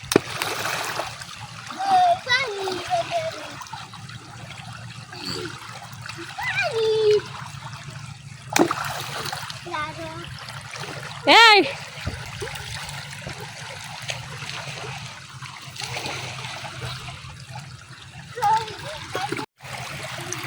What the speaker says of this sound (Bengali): এই পানিটা সরাসরি ঝর্ণা থেকে আসে।